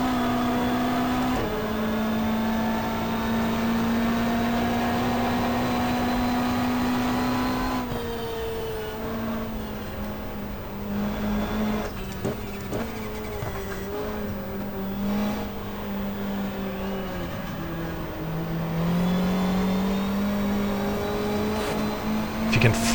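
A Castrol-liveried 1994 Toyota Corona touring car at Pukekohe, heard from inside as its engine drones steadily at high revs, then shifts down and rises again through corners, loud and continuous.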